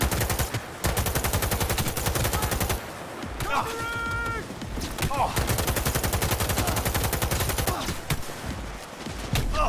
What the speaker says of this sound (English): Quit whining and keep shooting!